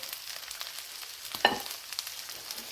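Chicken thigh meat frying in a pan gives a quiet, steady sizzle with a sharper spit and clink as pieces are added.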